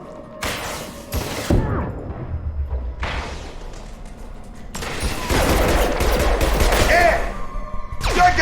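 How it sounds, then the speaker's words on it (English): Gunfire in the video game Mass Effect 2, bursts of rapid shots in separate volleys that build into a sustained, loud barrage toward the end, with a voice speaking in between. "taking heavy fire!"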